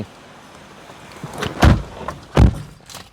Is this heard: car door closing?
yes